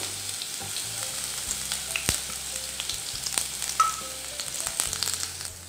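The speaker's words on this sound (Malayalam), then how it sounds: "അപ്പോൾ വെളുത്തുള്ളി ഒന്ന് ഫ്രൈ ആയി വരുമ്പോൾ" Finely chopped garlic frying in hot oil produces a continuous near hiss, broken by small crackles and occasional spatula taps against the pan.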